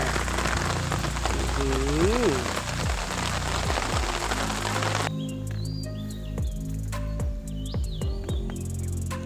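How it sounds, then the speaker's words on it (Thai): Heavy rain with strong wind pours down at an outdoor natural fishing spot, a dense, loud drumming hiss for about five seconds that then stops, leaving scattered bird chirps and low thumps. "วันนี้เจอฝนเต็มเต็มเลย"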